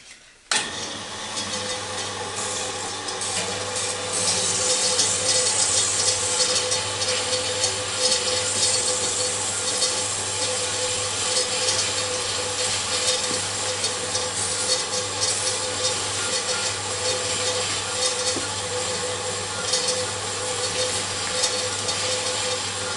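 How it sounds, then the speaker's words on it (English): Aluminium stock being cut on a Cormak ZX 7045 milling machine, a steady, loud metallic whir with a constant motor hum and continuous high cutting hiss sustained throughout, with no talking. "you've seen me cut some bits of aluminium stock"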